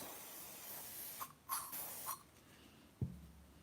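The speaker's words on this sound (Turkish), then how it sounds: "buna da böyle sprey sıkıyoruz." Aerosol spray can spraying onto an engagement tray decoration, a few short faint hissing bursts close by, followed by a small knock.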